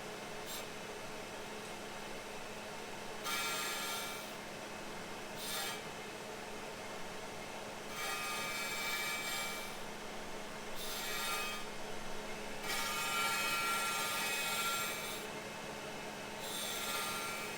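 A crankshaft grinder works the main journals of a 1968 Firebird 350 crankshaft, producing a steady machine hum with repeated bursts of harsh, hissing grinding that come and go in passes, all alone with no talk.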